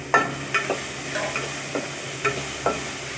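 A spoon stirs corn and tomato in a hot pan with a soft sizzle, about seven scraping strokes at an uneven pace, close by.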